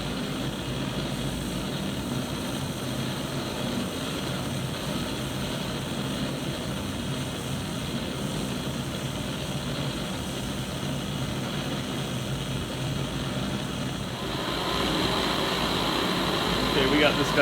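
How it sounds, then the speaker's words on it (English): A lit blowtorch on a gas supply gives a steady, broad roaring hiss that continues evenly at close range and grows slightly louder and brighter toward the end. "That is a lit blowtorch."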